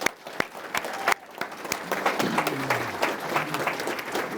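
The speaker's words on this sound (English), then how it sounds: "Round of applause, please." Applause from an audience at a police awards ceremony for lieutenants and an assistant chief, a scattered, moderately quiet patter of claps with sharp individual hits early on, thickening into steadier clapping.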